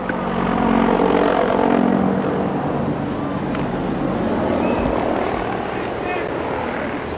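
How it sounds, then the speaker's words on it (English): A black helicopter passes low over a baseball stadium, its rotor thrum and engine whine loud early then fading to a steady drone, with crowd noise and a broadcaster talking over it. "Helicopter appeared to dive bomb the stadium here as it's now coming back."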